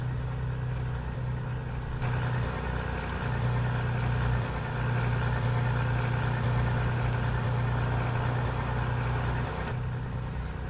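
Truck engine in Euro Truck Simulator 2 hums at a steady low idle-like drone, loud and continuous throughout, with a slight shift in tone midway and no talking.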